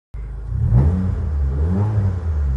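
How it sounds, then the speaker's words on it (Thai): A 2015 Honda Jazz 1.5V automatic revs up with a throaty exhaust rumble, rising then holding steady at close range. "เดี๋ยวให้ฟังเสียงท่อได้ยินมาเนาะ"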